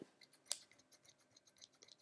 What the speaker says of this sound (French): Ça coupe bien, rien à redire, mais on va pas dire que ce sont des ciseaux de précision.